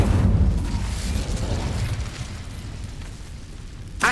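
A fiery Incendio spell blast in the Hogwarts Legacy video game, a loud, close burst with a deep rumbling roar that slowly fades over about four seconds, then a sharp pop at the end.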